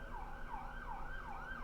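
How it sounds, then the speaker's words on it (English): A distant emergency siren in Brooklyn wails in a steady repeating rise-and-fall pattern, faint over low traffic rumble. "as you can hear, a lot of sirens in Brooklyn."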